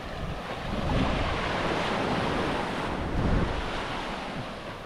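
Surf rolls onto a beach in Montserrat in a steady, close roar of breaking waves, with wind buffeting the microphone and swelling a couple of times.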